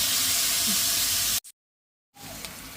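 Dried chillies and onions sizzle in a pan with a steady, close frying hiss that cuts out abruptly into silence, then returns.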